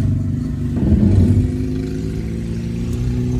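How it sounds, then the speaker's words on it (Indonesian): A 2010 Hyundai i20 with an automatic gearbox drives along in Drive, giving a steady, close, low engine hum and road rumble that swells slightly for a moment, with no talking. "Pakai D, mobil ini hentakan matic-nya halus."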